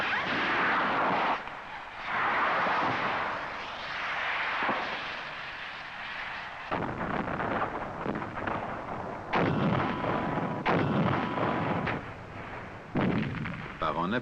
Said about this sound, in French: Les engins philo-guidés à longue portée et les canons anti-chars ouvrent le feu à partir de positions